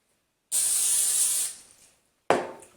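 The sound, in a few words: cooking spray sprayed onto potato slices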